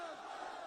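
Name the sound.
crowd shouting back a political slogan at a rally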